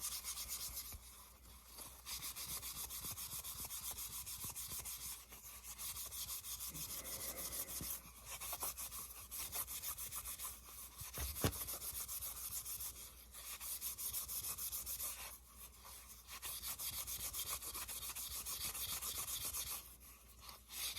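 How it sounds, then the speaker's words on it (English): Abrasive scuffing over a hydro-dipped plastic part dulls its glossy finish, a steady dry rubbing that runs in long strokes with brief pauses, close and moderately quiet, with no talking. "So then you can scuff the whole rest of your part."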